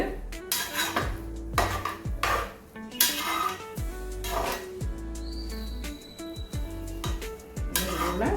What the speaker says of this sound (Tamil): கிளறி விடணும் கலந்து விடணுங்க நல்லா அடி பிடிக்காமல்